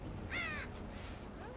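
Crows cawing in the video game Dead by Daylight, a single harsh caw followed by faint fainter calls over a steady low background hum, with no speech.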